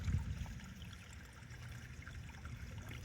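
Water runs constantly along a channel past two tomato plants, a steady close trickling stream with an even, unbroken wash and no pauses.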